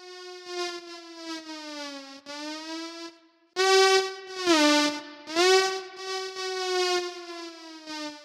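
A DIY synthesizer played with a ribbon sensor, where finger speed controls volume, gives a sustained harmonic siren-like tone that swoops in pitch and swells and dips in loudness, with one brief cut near the middle.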